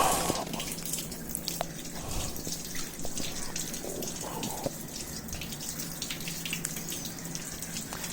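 Water runs from a tap onto a washing machine part being rinsed during servicing, a steady trickle and drip close by, with no talking.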